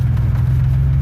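Dodge Dakota truck with its original engine and over 310,000 miles, driving: a steady, loud low engine rumble holds throughout the second without letting up.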